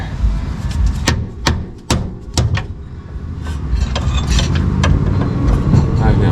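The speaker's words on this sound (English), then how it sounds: "Actually, I'm gonna hammer on it." Sharp metallic hammer strikes ring out on the tie rod of a 1996 Honda Accord, about five quick blows in the first half, then quieter workshop clatter.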